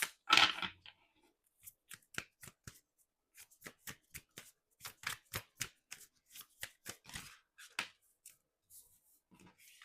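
Sign of the Times Oracle cards are shuffled close by, a brisk burst followed by a long run of separate crisp riffles and snaps spaced at uneven intervals in a quiet room.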